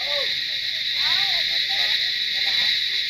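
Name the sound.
crickets chirping near Tenzing Rock, Darjeeling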